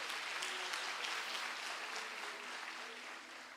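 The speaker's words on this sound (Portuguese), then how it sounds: "Pode aplaudir a Jesus." A church congregation applauds steadily and fairly softly throughout, a dense wash of many hands clapping with a faint voice or two underneath.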